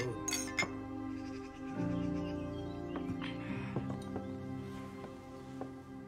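Glasses clink together in a celebratory toast, a few bright chiming taps heard over sustained background music with no one talking.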